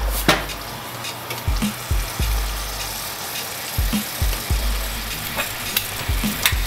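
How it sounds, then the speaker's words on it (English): Vegetables and shrimp sizzle steadily in a hot pan for a Spanish tortilla, a continuous crackling fry broken by repeated low clunks and scrapes of stirring, fairly close and without talk. "Now that the shrimp and salt is in there, I'm gonna throw all the vegetables in there."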